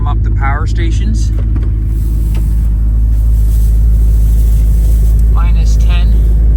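A truck engine idles loud and steady with deep low rumble on a minus-ten arctic morning, warming up before a diesel heater is started, with a few brief voices speaking over the running motor.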